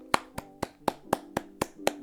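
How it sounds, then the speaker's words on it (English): A single person claps eight times in quick, steady rhythm, close and crisp, with a faint hum underneath. "here's a round of applause."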